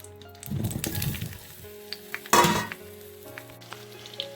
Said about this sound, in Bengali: এখন সব মিট ফলগুলো আমি তেলের মধ্যে দিয়ে দিচ্ছি